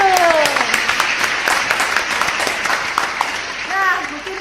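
An audience claps through a talk on love, a busy patter of hands with children's voices and cheers mixed in, loud and steady across the whole stretch.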